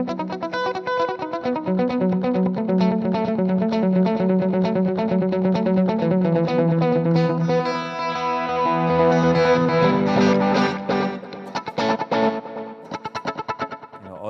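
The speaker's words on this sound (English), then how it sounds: "I have a special delay preset" Electric guitar played through a special delay preset, a steady run of sustained, harmonically rich notes with repeating echoes layered on top, loud and continuous with no talking.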